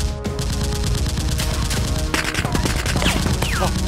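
Nerf guns fire in a mock S.W.A.T. fight, with dense rapid bursts of sharp shots, loud and close, and brief shouts mixed in.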